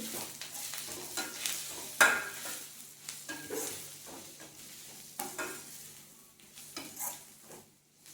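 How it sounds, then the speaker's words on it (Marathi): Chilli powder, turmeric and salt stir-fried with green chillies in a pan for Marathi chavli (amaranth) bhaji: a soft steady sizzle under repeated scraping strokes of a spatula, close and moderately loud, with no talking. "आता हे छान परतून घेऊ।"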